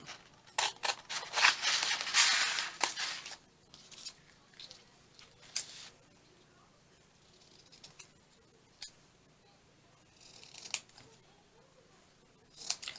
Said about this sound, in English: I need to take time to cut all these out.